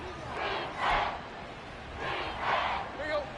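Crowd roar from an American football video game, a broad wash of stadium noise that swells in two waves under a commentator's play-by-play.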